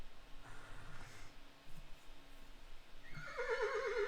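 A horse neighs loudly in a rising, wavering whinny that closes the clip, preceded by quieter shuffling and faint snorting sounds.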